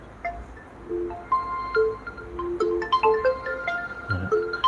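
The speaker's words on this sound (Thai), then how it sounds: "โทรศัพท์มานะแป๊บหนึ่งนะครับ" A mobile phone rings for an incoming call, a looping electronic melody of bright tones that repeats over about five seconds, moderately loud against a quiet background.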